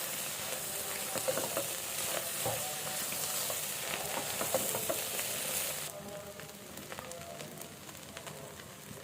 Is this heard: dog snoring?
no